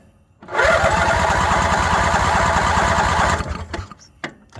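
Ingersoll garden tractor engine on choke sputtering into a loud, rapid chugging run for about three seconds before dying out, followed by a few faint clanks.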